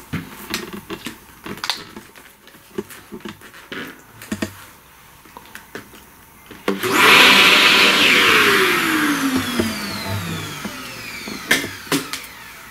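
A vacuum cleaner switches on partway through and runs with a loud steady whine, sucking up pastel dust from a flower drawing after quieter handling noises.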